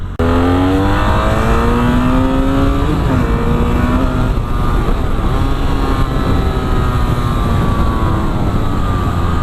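A 2017 BMW F800R, an 800 cc two-cylinder motorcycle, runs continuously under load while riding, its loud, even engine drone holding steady throughout with a slight rise and dip in pitch.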